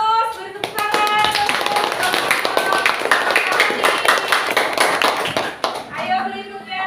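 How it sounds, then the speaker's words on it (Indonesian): A classroom of pupils claps for a classmate during a lesson, rapid overlapping handclaps running throughout, close and loud, with children's voices and a teacher talking over the clapping. "beri tepuk tangan"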